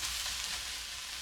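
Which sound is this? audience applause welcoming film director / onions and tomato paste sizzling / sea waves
onions and tomato paste sizzling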